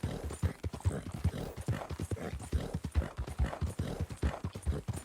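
Appaloosa horse hooves clip-clopping in a steady, brisk rhythm while being ridden in Red Dead Redemption, loud and close throughout with no talk over them.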